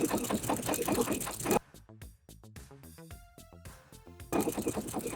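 A sewing machine stitches a seam while a too-big bodice is taken in at the princess lines, with fast whirring bursts at the start and end and a slower run of separate stitches and clicks between them.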